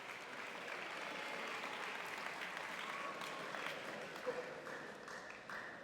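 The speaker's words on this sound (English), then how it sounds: "Give you guys a round of applause." Steady crowd applause at a high school athletic awards gathering, honoring championship-winning athletes, a sustained even wash of clapping heard from a distance with some voices mixed in.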